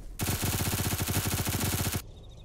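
A G3A3 rifle fires one sustained full-auto burst in a video game, a rapid, loud, evenly spaced rattle of shots lasting nearly two seconds before cutting off abruptly.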